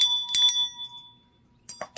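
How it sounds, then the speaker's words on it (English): A small bell rings out with a sustained metallic tone, struck twice in quick succession near the start and ringing away over about a second, then a few short clinks and rustles at the end. "what are you ringing that bell for?"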